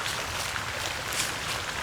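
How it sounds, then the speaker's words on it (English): An outdoor fountain splashes as a steady, even wash of water noise, continuous and fairly faint in the background, with no speech. "And you can hear there's a fountain in the background."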